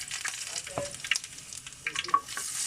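Garlic frying in oil left over from frying fish, a crackling sizzle with scraping stirs, moderately quiet and close, with no talk.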